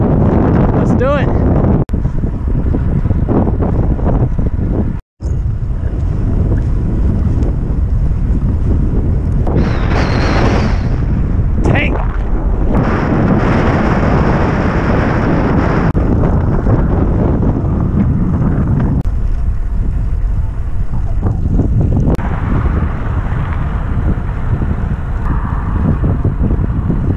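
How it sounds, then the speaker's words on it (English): Heavy, continuous wind buffeting the microphone while cycling a flat road route on a cold, windy day, a loud roaring rumble that swells and eases and never stops, with a brief dropout near the start. "Kind of a cold, windy day."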